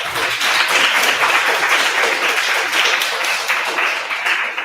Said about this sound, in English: So let's have another round of applause for Bundesdruckerei, Holger, Bernd und Balin